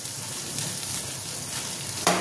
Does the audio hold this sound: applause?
no